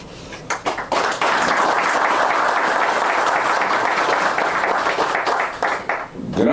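Audience applause at a signing ceremony for a decree setting a new coverage rate, broad sustained clapping rising quickly and filling the hall for several seconds before tapering off near the end.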